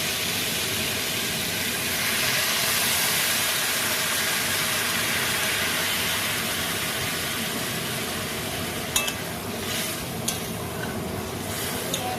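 Water poured over lightly fried papaya in a hot pan sends up a continuous broadband hiss of steam, with a few faint clinks near the end.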